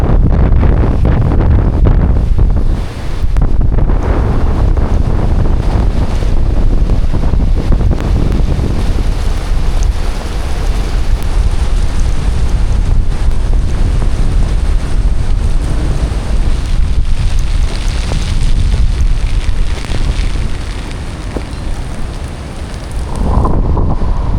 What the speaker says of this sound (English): This surf is huge. Out the back there, that would have been a 5-meter wave that just broke out the back.